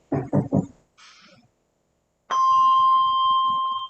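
A clear bell tone rings out and sustains steadily after a brief spoken voice and a pause.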